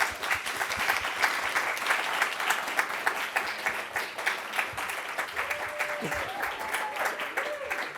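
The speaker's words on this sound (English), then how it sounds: "let's start by giving applause to all of the presenters and all the groups" An audience at an urban reforestation presentation claps steadily for the presenters, a full round of applause at moderate level with faint voices murmuring underneath.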